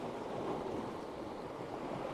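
Ocean waves washing in on a shore under a colourful sky, a steady hissing wash of surf with wind, continuous and moderately close, no voices.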